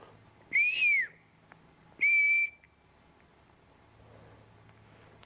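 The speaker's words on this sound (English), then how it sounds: "And there's whistles below me. What are the chances? Like real whistles." Two loud, clear whistles rise from somewhere below a hillside trail, each lasting about half a second and spaced well apart, followed by quiet outdoor ambience.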